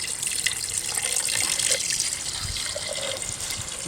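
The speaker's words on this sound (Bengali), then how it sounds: "তারপরে এবারে পরিমাণ মতো জল দিয়ে দেবো যাতে মটনের থেকে এতটুকু জল উঠে থাকে" Water poured from a vessel into a pot of mutton curry as it cooks for a special lunch, a steady continuous splashing and trickling pour, close and fairly loud, running alone throughout.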